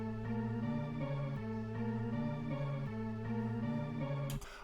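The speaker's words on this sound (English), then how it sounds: "the last part is this low piano that just sits at the end of the song" A low piano plays a sustained melody in a steady, repeating pattern of held notes, moderately loud and alone, ending with a brief noisy burst.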